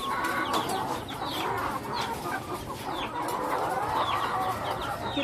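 Chickens kept for eggs on a small farm in the Philippines cluck and cackle in a dense, continuous chorus, with many birds close by over a steady background hum and no one speaking.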